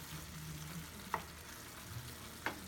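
Taco meat frying in a pan for Mexican street tacos, a steady close sizzle broken by a few sharp scrapes as it is stirred.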